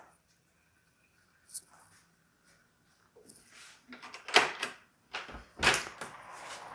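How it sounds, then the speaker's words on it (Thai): A few soft clicks, then a handle rattles and a house door thumps and scrapes open in several sharp knocks, fairly close, in windy, cold weather in Sweden. "เดี๋ยวจะลองเปิดประตูบ้านไปนะคะ"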